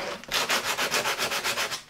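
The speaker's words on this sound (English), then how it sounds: "take sandpaper and sand this off" Close, steady back-and-forth sanding with 120 grit sandpaper on a BMW Dakar seat during an upholstery rebuild, about ten even rasping strokes in a regular rhythm, with no voices.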